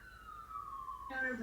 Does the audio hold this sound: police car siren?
yes